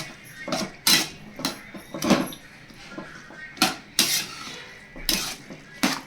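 A utensil scrapes and clanks against a pan while rice is mixed with spinach for palak rice, giving a series of irregular, fairly sharp metallic knocks and scrapes with short pauses between them.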